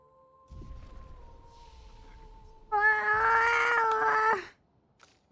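A cat in the video game Clair Obscur: Expedition 33 lets out a long, loud, resonant wailing caterwaul after a quieter sustained tone, then cuts off into near silence.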